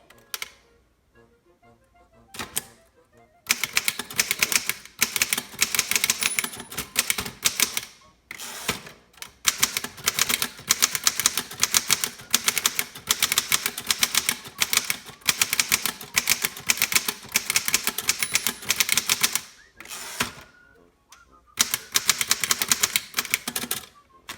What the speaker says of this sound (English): these old machines are kind of a hoot to type on when they're working well